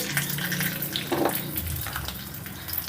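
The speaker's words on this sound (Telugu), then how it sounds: "ఆయిల్ వేడైందండి కొద్దిగా పచ్చిపప్పు కొద్దిగా మినప్పప్పు అలాగే కొద్దిగా ఆవాలు ఇందులోనే ఒక రెండు ఎండుమిర్చి" Chana dal, urad dal, mustard seeds and two dried red chillies sizzle in hot oil for a chutney tempering, a steady close crackling fry with no voices.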